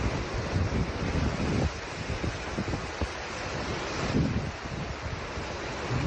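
Tsunami waves surge ashore under wind, a loud continuous roar of churning water with heavy wind buffeting the microphone and swells rising and falling.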